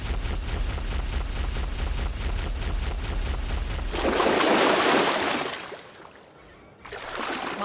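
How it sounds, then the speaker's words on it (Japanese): An Ankylosaurus in the video game ARK Mobile swims across a river, heard as a rhythmic low paddling pulse that gives way to loud rushing splashes and water noise, with no talk. "アンキロさんに乗ってこの川を渡っていこう"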